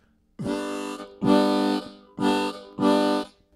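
Four full harmonica chords played in succession, each held under a second with brief gaps, close and fairly loud.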